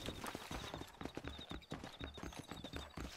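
Horse hooves clip-clop in Red Dead Redemption, a steady rapid trot of many hoofbeats with a faint whinny, quiet and somewhat distant, with no talk over it.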